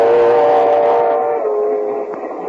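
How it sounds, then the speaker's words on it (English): A train sound effect for a radio comedy set in a passenger compartment approaching Kansas City, with a loud, steady chord-like whistle tone that eases slightly partway through, heard alone. "So we now find Mr. and Mrs. George Burns in a compartment on a train approaching Kansas City."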